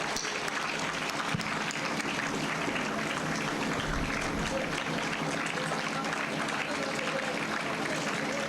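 Sustained audience applause fills a graduation day ceremony at an agricultural college, a dense, even wash of clapping from a large crowd that carries steadily throughout without a break.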